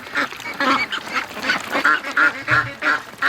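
Free-range ducks quack repeatedly at close range as their pen opens in the morning, a rapid series of loud, nasal calls in an uneven rhythm.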